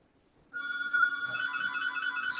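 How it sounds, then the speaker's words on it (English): A phone rings with a steady electronic ringtone, clear stacked tones sounding continuously and fairly close after a brief quiet start, with no talk over it. "that's my phone ringing."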